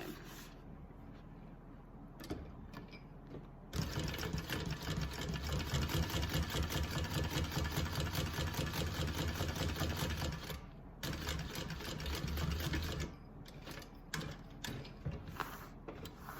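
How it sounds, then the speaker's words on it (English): A home sewing machine stitches over fabric in a fast, steady mechanical rattle, loud and continuous for long stretches, pausing briefly between runs with quieter ticking before and after. "I'm just going to clean that up by kind of stitching over it."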